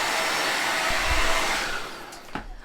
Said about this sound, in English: let's go ahead and use our blow dryer and make short work of the drying time